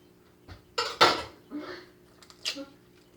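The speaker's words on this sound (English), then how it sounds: "And you watch, we're going to crack the egg." An egg cracks on the rim of a small bowl in a home kitchen during baking. A few short, close clinks and taps of shell against dish are separated by brief quiet gaps.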